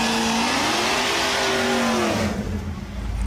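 A drag race car roars past with a loud, sustained high-revving engine whose pitch climbs and wavers as the tires spin hard, the sound then easing off into a lower rumble.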